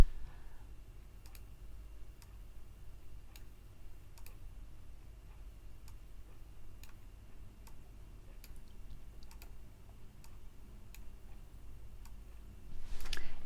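Computer mouse clicks while working in Illustrator, a string of faint, crisp single clicks spaced about a second apart over a quiet hum, with a louder rustle at the end.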